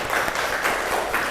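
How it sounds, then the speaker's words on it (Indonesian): A classroom of students in an Islamic religious education lesson breaks into a brief, close burst of dense, brisk applause that fills the room for just over a second. "Beri tepuk tangan untuk kita semuanya."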